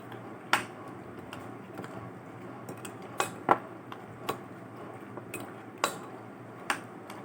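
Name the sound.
stirring fruit chaat salad with yogurt in a bowl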